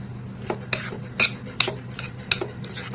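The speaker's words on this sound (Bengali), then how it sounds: "ভালোভাবে মিক্সড করে নিচ্ছি।" Semolina batter being stirred with a spoon against a metal bowl, giving about five sharp clinks and scrapes at an uneven pace over a low background hum, close and fairly clear.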